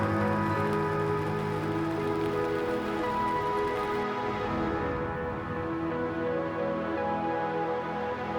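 Steady rain falls at an urban carp fishing bank in Cardiff, a dense even hiss of drops on surfaces, continuous and fairly loud with no voices.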